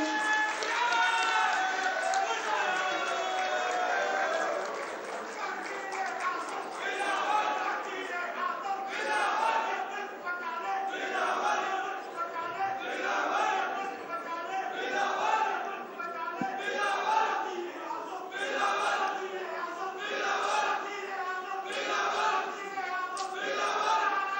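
A large crowd at a Pakistan Peoples Party rally cheers and chants in rhythmic waves, a sustained roar of many voices with bursts of applause continuing for over twenty seconds.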